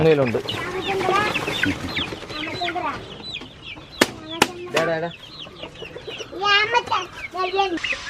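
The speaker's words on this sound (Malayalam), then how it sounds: "ഇതൊക്കെ ഏത് തരം കോഴികളാണ്? ഇതെല്ലാം നാടൻ കോഴികൾ." Native hens cluck and chicks cheep in a lively farmyard mix, with a few sharp clanks partway through and scattered voices in the background.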